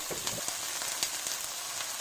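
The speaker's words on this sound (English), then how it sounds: "Now you keep frying this for a few minutes." Steady oily sizzling and crackling of okra frying in a hot pan, with occasional louder pops, continuous and fairly close.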